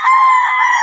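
A Clements Gray American gamecock rooster crows once, loud and close, a short bright call with strong harmonics, heard alone without talk.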